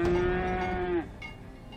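Cattle moo at a cattle farm in the video game Farthest Frontier: one loud, sustained, steady moo lasting about a second, then quiet background.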